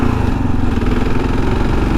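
A Kawasaki KLR650 single-cylinder motorcycle engine drones steadily at a constant speed while being ridden, loud and close with a rough, pulsing low rumble throughout.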